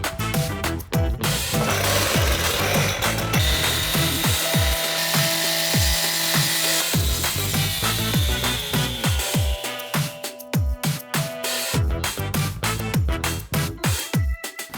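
A power saw grinds through a Unilock EcoTerra paver stone, cutting thin sliver pieces in half on a driveway and walkway job. The cuts come as a loud, continuous whining rasp, with bursts and pauses near the end.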